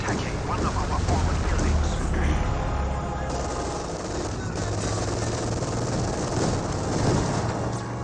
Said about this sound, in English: It is an infantry strafing run.